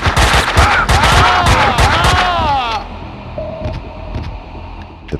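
Rapid bursts of gunfire in the PS2 video game Max Payne 2 crackle for nearly three seconds, tangled with shouting voices, then give way to a quieter backdrop with a few faint clicks.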